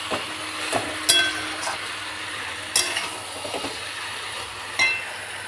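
Curry with tomato paste sautéing in a pan, a low steady sizzle with a few sharp clinks and scrapes of a spoon stirring at irregular intervals.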